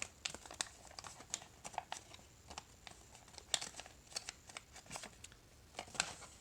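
Origami paper being folded and creased by hand into a square tetrimino model, a run of crisp crinkles and sharp paper snaps in irregular bursts, close and fairly quiet with no talking.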